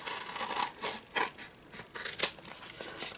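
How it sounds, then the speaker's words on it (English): Scissors cut around excess cardstock on a handmade thank-you card, a run of short crisp snips and paper rustles close up, with no talking. "So let me get my scissors out."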